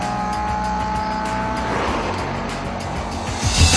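Cars racing in a police chase, engines roaring loudly with tires squealing and skidding throughout, close and continuous with no talking.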